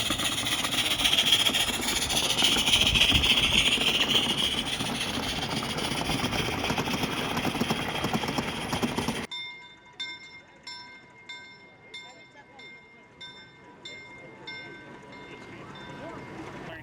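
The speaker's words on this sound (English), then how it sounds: "Here comes EBT number 12 with a freight train." A locomotive pulling a freight train rumbles loudly for several seconds, then cuts to quieter idling with a faint repeating ticking pattern.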